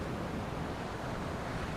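Steady roar of ocean surf breaking along Oahu's North Shore in Hawaii during a surf competition, a dense, continuous wash of water with wind rumbling across the microphone.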